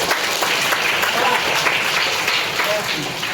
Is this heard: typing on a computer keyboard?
no